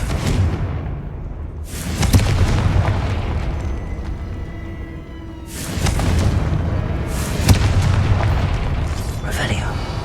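Confringo blasting spell explosions in Hogwarts Legacy, two loud booming blasts with rumbling tails, each followed by a lingering roar, with a voice speaking between them.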